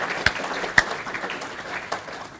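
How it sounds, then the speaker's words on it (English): Applause at a Safety Charter signatories event honouring new endorsees, a scattered round of clapping with a few sharp nearby claps standing out from the steady patter. "can we have a round of applause, please, for recognition of their efforts"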